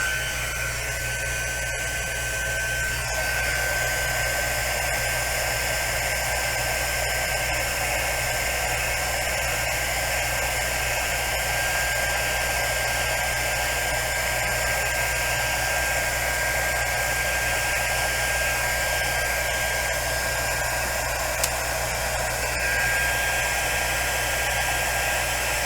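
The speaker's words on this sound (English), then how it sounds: "then I'll get my embossing gun out and we'll take a quick test" Heat embossing gun blowing hot air, a constant close whooshing roar with a thin steady whine that runs unbroken from start to end.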